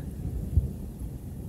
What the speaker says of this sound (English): We've got a thunder shower.